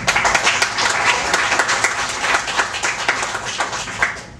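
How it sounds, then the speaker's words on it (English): Dense, sustained applause from a large seated audience at a Scientology Flag event, steady clapping filling the whole stretch with no voices on top. "Please give yourselves a round of applause."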